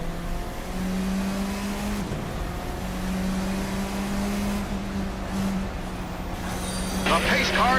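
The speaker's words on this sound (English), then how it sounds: "This is the new F4 car." A new F4 race car in the racing sim Automobilista 2 holds a steady engine drone close by, its pitch shifting between gears, with a sharper rev near the end and a voice talking over it.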